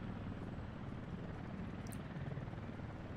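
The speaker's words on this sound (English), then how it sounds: "Look at that helicopter." A helicopter in the city-building game Workers & Resources: Soviet Republic gives off a steady, continuous rotor drone, heard alone with no speech and a short faint chirp partway through.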